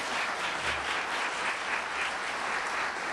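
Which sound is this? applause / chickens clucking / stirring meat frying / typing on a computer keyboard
applause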